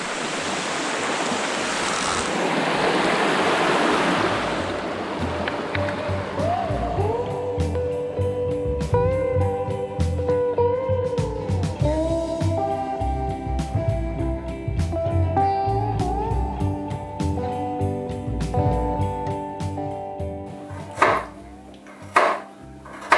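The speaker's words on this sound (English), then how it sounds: "We have a little river near the house." A small river rushes near a house in Apuseni Natural Park after rain, a loud steady flow that fades after several seconds into kitchen clatter, tonal chimes and scattered knocks.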